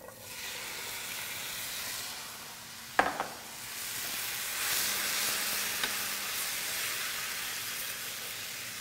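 Black beans seasoned with chili powder and cumin cook in a pan with a faint, steady sizzle and hiss, broken by a sharp clink of a utensil partway through and light stirring.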